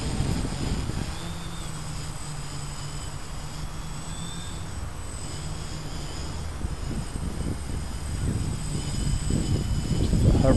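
An AeroQuad Cyclone quadcopter drone flies nearby, giving a steady whirring propeller drone with a faint high whine, holding level throughout and swelling slightly louder near the end.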